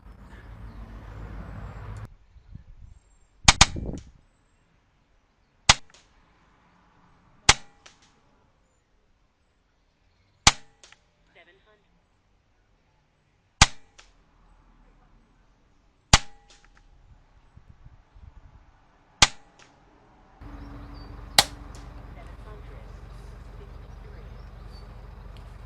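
Eight sharp air rifle shots fire pellets at a target, spaced a few seconds apart, each a crisp near crack with quiet gaps between and a steady hum at the very end.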